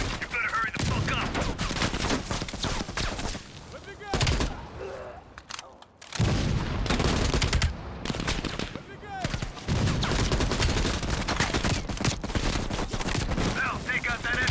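Sustained machine gun fire rattles through a Call of Duty: Black Ops Cold War battle, loud and close with rapid bursts, brief lulls and heavy background explosions, while voices speak over the gunfire.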